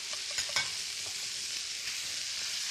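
Squid and onion sizzle steadily in a hot pan during stir-frying, a close, bright hiss broken by a few scraping stirs of the utensil, with no talking.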